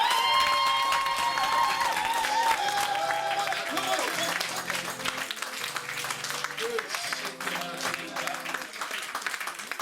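A church congregation applauding during a French-language worship service, steady dense clapping with some cheering that stays loud throughout, with voices and musical tones mixed in.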